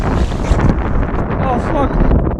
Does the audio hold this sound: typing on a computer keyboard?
no